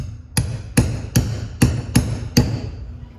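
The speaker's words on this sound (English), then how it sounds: "Grab a big socket right here and just smack it on." A big socket is struck with a hammer to seat a seal in a Toyota 22R power steering pump. Six sharp, evenly spaced metallic blows ring out close and loud over roughly three seconds, with no talking.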